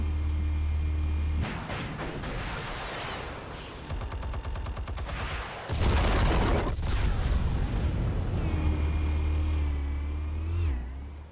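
Explosives go off in the Batman: Telltale Series game as sharp, loud booming blasts and crackling bursts, with rattling debris and a low rumble between them.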